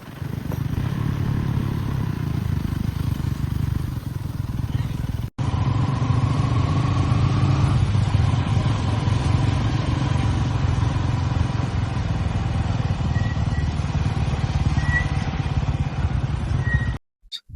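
Motorcycles, including an MS-200, a Royal Enfield Bullet and a 220, rumble near a temple parking spot, a steady low engine drone running without break apart from one sudden cut.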